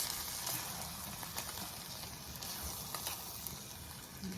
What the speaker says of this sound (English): Just stir it like that.